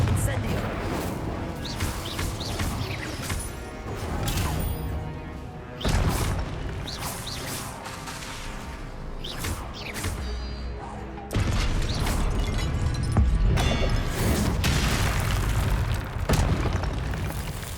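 Confringo and Incendio spells exploding in Hogwarts Legacy during a trial fight, with repeated heavy booms, fiery bursts and crashing impacts over a dense, loud game soundscape, alongside voices.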